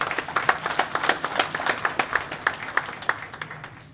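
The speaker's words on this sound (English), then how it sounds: "Let's give him another round of applause." A round of applause at a provincial political party gathering, sparse individual hand claps at a fairly steady rhythm, several people clapping near and clear with no talk over them.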